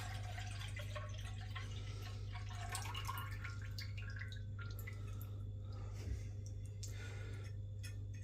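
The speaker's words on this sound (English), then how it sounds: "pour all this juice in." Red currant juice poured into a saucepan set on a kitchen scale, a quiet liquid trickle and a few drips, soft and close, over a low steady hum.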